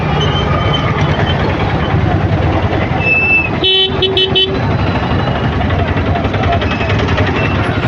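Heavy street traffic on a busy market day makes a loud, constant engine roar, and a couple of car horns toot briefly midway through.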